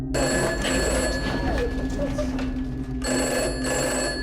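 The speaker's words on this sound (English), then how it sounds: "the phone starts ringing" A telephone rings in a steady, continuous electronic tone, fairly loud and close, with a short break near the end before ringing resumes, over low background noise.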